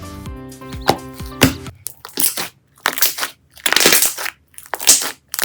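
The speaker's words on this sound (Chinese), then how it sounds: "沙泡的声音听起来也是很厚实的那一种" Thick, crunchy foam slime is squeezed and pressed by hand, giving loud, close, grainy crackling bursts. Several separate crunchy squeezes come one after another with short gaps, and there is no talk over them.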